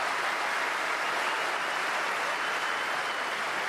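Steady, dense applause from a crowd at a women's doubles wheelchair tennis gold medal match between the Netherlands and Japan, continuous and fairly loud throughout with no pauses.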